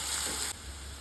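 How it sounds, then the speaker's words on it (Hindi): Chopped onions fry in a pan for an aloo besan sabji, giving a steady, close hiss that softens abruptly halfway through the brief moment. "तो चलिए पहले हम प्याज को भून लेते हैं।"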